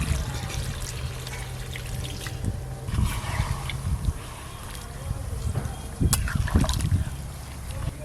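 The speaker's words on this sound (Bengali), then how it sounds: "এবার পরিমাণ মতো জল দেব।" Water poured into a pan of browned chicken curry: a splashing, trickling pour comes in short bursts over the stove, alongside a voice.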